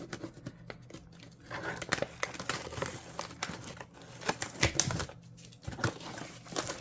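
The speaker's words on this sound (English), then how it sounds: "I didn't actually cut fully into the box. I wanted to open it with you guys." Cardboard shipping box being pulled open by hand, with close, irregular crinkling, tearing and scraping bursts over several seconds at moderate loudness and no talking.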